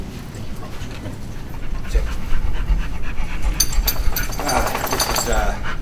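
Service dog belonging to a Navy Desert Storm veteran, panting steadily in rhythmic breaths at a press conference, with room noise and occasional voices around it.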